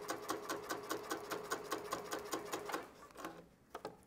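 Sewing machine back stitching fabric for a homemade cell phone case, a steady rapid run of loud close stitches that slows and stops near the end with a couple of final clicks.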